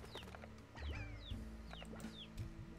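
A chicken clucking in the video game Slime Rancher, repeated chirpy clucks over a steady low hum and background game sound, moderately near and fairly quiet.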